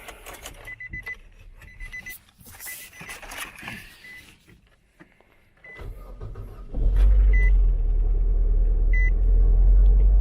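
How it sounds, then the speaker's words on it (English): Clicks and faint beeps inside a salvage-auction car that had sat unused, then its engine starts a little clunkily and settles into a loud, steady low idle rumble. "Motor was a little clunky when it started. Sounds all right now."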